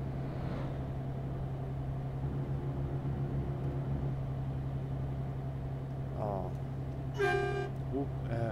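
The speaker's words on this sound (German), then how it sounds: "Horn geht, Hupe geht." Truck horn in Euro Truck Simulator 2 sounding during a long drive toward Nürnberg, over a steady low engine drone. Two short honks come late, the second louder and held longer, with a voice speaking over the engine hum.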